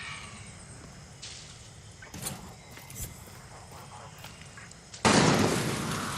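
Gunfire crackles in the shooter game Far Cry 6, a few scattered distant shots followed by a loud sudden burst near the end, over low ambient game noise.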